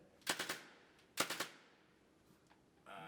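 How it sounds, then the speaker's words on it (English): A gas-powered replica M4 rifle firing with recoil, two quick bursts of three or four sharp close shots each, a fainter click after them and a brief noise at the end, with no talk. "so it's gas powered, so the actual gas is released with each shot, and that causes the recoil on this"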